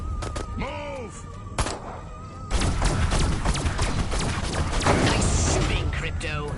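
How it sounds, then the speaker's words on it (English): Video game weapons fire in dense, rapid bursts of thuds and blasts that build from sparse hits into a continuous loud barrage, with electronic warbling sounds early on and voices in the background. "Nice shooting, Crypto."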